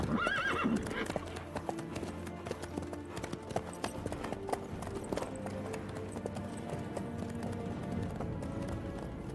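A horse in The Witcher 3 video game gallops with a rapid, steady clip-clop of hooves and lets out a neigh near the start, all under a busy ambient game mix.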